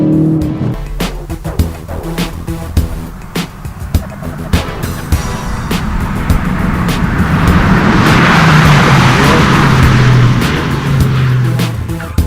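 A Ford Focus hot hatch pulls away from a dead stop and accelerates hard, its engine note rising loudly and steadily over several seconds with a rushing roar, close and continuous, with no talk.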